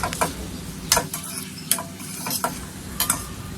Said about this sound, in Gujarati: ધીમા ગેસની ફ્લેમ પર આપણે અડધી મિનિટ જેવું સંતળાવા દેશું